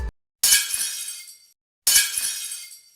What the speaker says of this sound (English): That was a plate smashing